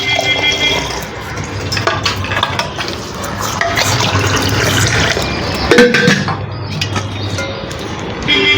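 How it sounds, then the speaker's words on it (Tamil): At home, water is poured into a vessel, probably for drinking: a steady, close splashing trickle runs for several seconds, with small clinks and a brief louder slosh partway through. "நான் தண்ணி குடிக்கிறேன்."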